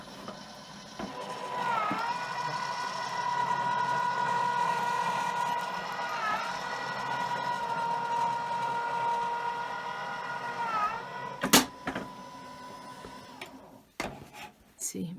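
An AccuQuilt Go fabric die cutter runs steadily under a sustained mechanical whine with a strong humming tone, cutting folded fabric with a 5-inch die, ending with a few sharp clacks.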